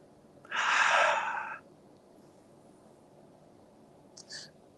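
During a yoga lunge, one long, deep, airy exhale rushes out, followed by a faint silent pause and then a brief, sharper intake of breath near the end, all close and with no talking.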